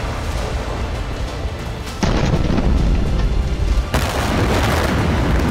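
Explosion at the Kakhovka dam in Ukraine, heard as a heavy, deep booming roar of loud rumbling that shifts abruptly in intensity a couple of times, with no voices.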